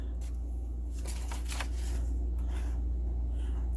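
Scissors snip through paper while cutting out pieces for a lap book collage, a few close crisp cuts and rustles over a steady low hum, no talking.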